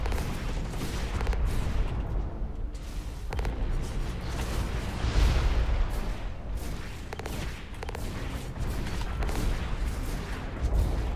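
Rocket fire and blasts from a mech in the game Hawken, rumbling booms and crackling impacts rolling continuously with heavy low-end bursts, loud and close throughout.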